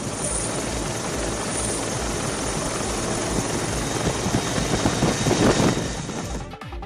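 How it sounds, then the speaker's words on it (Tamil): A helicopter showering flowers over a temple in Kerala drones overhead with a loud, continuous rotor thrum that swells slightly before cutting off abruptly. "ஹெலிகாப்டர் மூலம் கோயில் மீது பூக்கள் தூவப்பட்டன"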